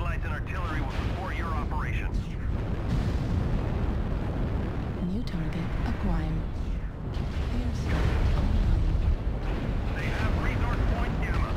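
Artillery and airstrike explosions in the MechWarrior Online mech combat game rumble in a dense, continuous low barrage, while a synthetic announcer voice speaks over the blasts throughout.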